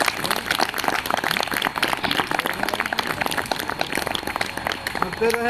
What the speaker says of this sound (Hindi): उनके स्वागत में हम सभी तालियां करताल ध्वनि से उनका स्वागत करेंगे।